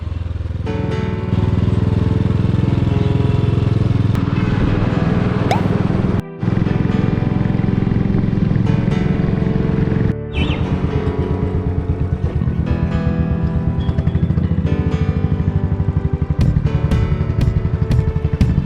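A Royal Enfield 500 motorcycle ridden at night rumbles with a loud, steady engine drone close by, broken by two short drops as the rider shifts gear, and no voices are heard.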